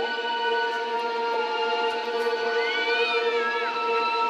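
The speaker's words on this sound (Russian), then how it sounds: "Ты слышишь мяуканье? Слышу, такое громкое." A large cat meows loudly and drawn out, one long rising and falling call over a steady tonal game-like hum.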